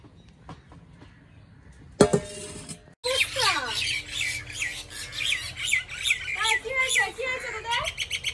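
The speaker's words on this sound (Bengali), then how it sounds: "বাবারে বাবা, শালিকের ঝগড়া শুরু হয়ে গেছে।" Myna birds squawk harshly and chatter in a noisy, quarrelling burst, close by and continuous after a sharp clatter.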